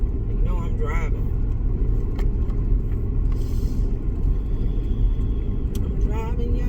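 Steady low road rumble inside a moving car carries on throughout, loud and continuous, while people talk over it.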